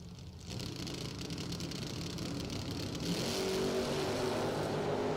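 Drag race cars, including Earl Fletcher Jr.'s E&E Trucking second-generation Camaro out of Cincinnati, rumble steadily at the line and then swell louder as they launch. The engines rise into a loud, sustained roar at mid distance.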